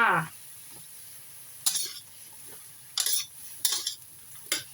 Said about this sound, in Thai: ผัดมะเขือยาวก่อนจ้า